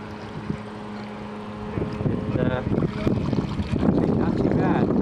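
New Bright Fountain RC boat fitted with hobby-grade mods cruising slowly on water, a thin electric motor whine rising and falling under wind buffeting and water splash, fairly faint and distant.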